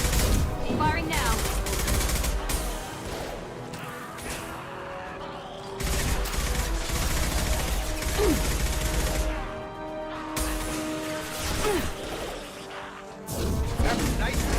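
Gunfire in Mass Effect 2, sustained bursts of rapid shots and crashing impacts in long loud stretches, broken by brief lulls, with voices talking over the combat.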